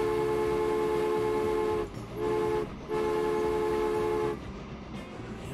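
A train in the Transport Fever video game sounds a loud, sustained horn in three blasts separated by short gaps, over a steady rumble of rolling rail cars.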